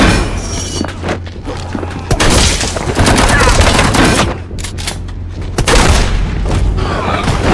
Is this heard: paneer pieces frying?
no